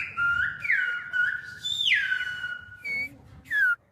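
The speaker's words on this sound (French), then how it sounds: "d'une vallée à l'autre retentissent ces étranges sifflements." Silbo Gomero, the whistled language of La Gomera, carries between valleys as a series of sharp, sliding whistles rising and falling in pitch, fairly close with short gaps between phrases.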